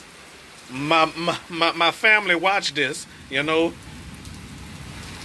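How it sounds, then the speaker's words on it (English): Steady rain falls in a soft, constant hiss beneath someone talking in short bursts, and the rain continues alone once he stops. "So the rain has finally came"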